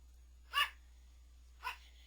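Two short barks from a pet dog named Sophie, about a second apart, moderately near in a quiet indoor room with a steady low hum beneath.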